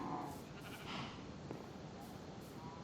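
A sheep bleats a few times over a constant hiss of background noise, moderately close and not very loud.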